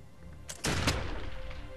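A single sharp gunfire volley rings out in the video game Expeditions: Conquistador, a loud burst followed by a brief rumbling decay, with no voices over it.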